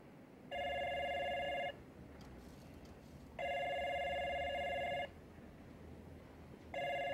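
A telephone rings in steady bursts of about a second each, three rings separated by pauses, clear and electronic against a quiet indoor background.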